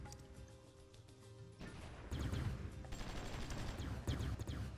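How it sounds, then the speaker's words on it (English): Artillery shelling infantry in the war strategy game Supreme Ruler Ultimate: a faint, dense rumble of distant explosions that swells after the first couple of seconds and keeps rolling with scattered sharper hits. "The infantry should be more or less ready, although they're being bombarded right now."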